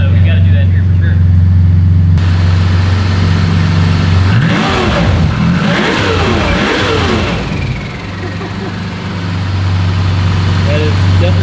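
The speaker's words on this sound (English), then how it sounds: "That is definitely a unique sound coming from the Supra." Someone's V12-swapped Toyota Supra revs up in a rising, sweeping engine note before settling back to a steady loud idle, with people talking over it.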